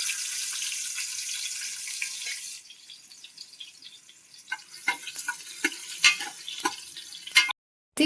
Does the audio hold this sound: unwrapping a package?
no